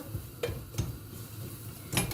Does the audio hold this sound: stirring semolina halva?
yes